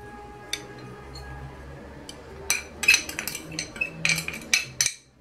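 Metal spoons and utensils clinking against a bowl while spices are measured in for a Moroccan fish tagine, a quiet start followed by a cluster of bright, irregular clinks and taps close by.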